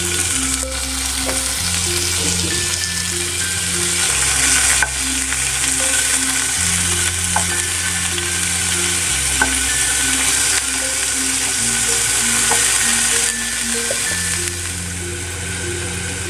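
Boneless chicken pieces fry in a spoonful of oil in a pan on a stove, a loud, steady close-up sizzle with occasional stirring clicks and scrapes throughout; no one speaks.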